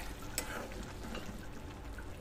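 Noodles in a pan with spices, salt, water and a little oil give a faint, steady low sizzle, with light stirring scrapes and one brief sharp clink early on.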